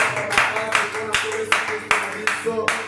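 A church congregation applauds in praise of Jesus Christ, steady rhythmic clapping with loud claps recurring every few tenths of a second, close and lively.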